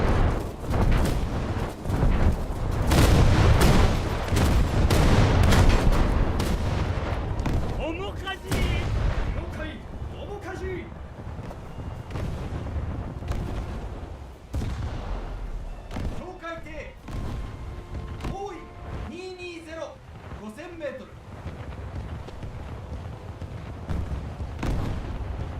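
Naval guns in a warship video game fire at an enemy ship, heavy booming blasts and rumbling explosions rolling through the first half and fading into quieter thuds, with someone talking intermittently over the action.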